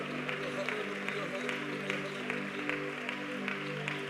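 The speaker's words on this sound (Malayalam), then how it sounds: "കൈയടിച്ച് സ്തോത്രം പറ." A church congregation at a prayer centre claps rhythmically during praise, steady broadband clapping with crowd noise and a sustained musical drone underneath, moderately loud and continuous throughout.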